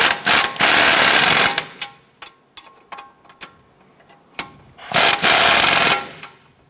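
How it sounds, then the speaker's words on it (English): A ratchet wrench tightens strut bolts on a 2007-2012 Nissan Versa during a CV axle replacement, loud fast ratcheting bursts at the start and near the end with sparse metallic clicks between. "Let's go ahead and secure our strut bolts."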